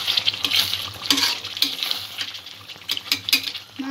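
Chicken kalia being stir-fried in a pan, with close, irregular scraping and stirring strokes over a soft sizzle, several distinct scrapes and clinks spread across a few seconds, no voices.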